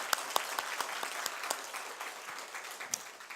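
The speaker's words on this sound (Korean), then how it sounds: "우리 다시 하나님 앞에 크게 영광의 박수를 돌리겠습니다." A church congregation at a Sunday service applauds, a brisk crackle of many hands clapping at moderate distance that slowly thins out over a few seconds.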